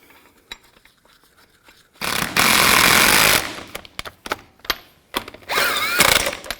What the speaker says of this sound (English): Now I'm going to tighten these lug nuts down to 140 foot-pounds